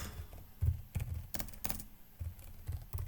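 Keystrokes on a computer keyboard while a prompt is typed: about eight quiet, separate clicks spread unevenly over three seconds.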